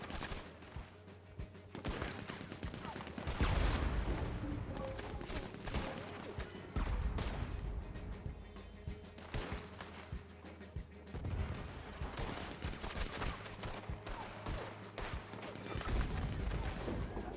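Dense exchanges of gunfire in the Wild West game Red Dead Redemption 2, many loud shots and rapid volleys cracking close and at a distance over several seconds, with the odd faint voice underneath.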